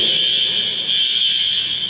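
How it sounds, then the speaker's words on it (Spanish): Fire alarms go off in a building during Hurricane Irma in South Beach, Florida, a loud, steady high-pitched electronic tone sounding continuously without a break. "Acá reventaron las alarmas las alarmas contra incendio que generalmente se activan en estas circunstancias"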